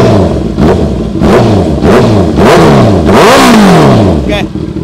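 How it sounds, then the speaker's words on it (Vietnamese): A loud Honda CBR650R motorcycle engine revs repeatedly, pitch rising and falling in several close bursts, with a brief spoken voice over the top. "đó là tiếng của 650."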